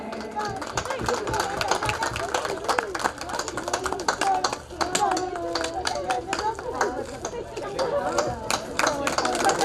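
Loud, sustained applause from a seated audience welcoming honoured members at a grand foundation-stone ceremony in Arihant Nagar, dense continuous clapping with crowd chatter mixed in throughout.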